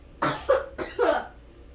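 Two sharp, close coughs in quick succession after a deep hit from a weed pen, harsh and raspy, with no speech.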